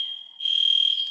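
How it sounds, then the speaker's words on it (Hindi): A false fire alarm sounds somewhere in a college department, a steady high-pitched electronic tone that grows louder partway through and holds, heard from a distance with no talking. "डिपार्टमेंट में फायर अलार्म बजी हुई है, फॉल्स अलार्म है"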